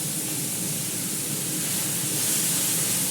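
Steady, loud hiss of tempering spices for dal sizzling in hot oil, a continuous crackling spatter with no pauses and no voices.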